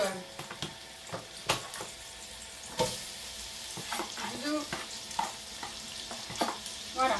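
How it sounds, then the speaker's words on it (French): Onions sauté gently in a pan, a soft steady sizzle with scattered clicks and scrapes of stirring, fairly quiet and close. "on fait revenir gentiment donc les oignons"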